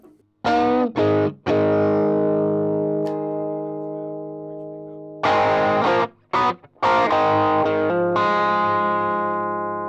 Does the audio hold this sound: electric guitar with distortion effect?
yes